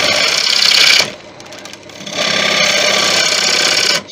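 Wood lathe turning a closed cherry bowl, the gouge nibbling away excess wood in two loud cutting passes with a short quieter pause between them.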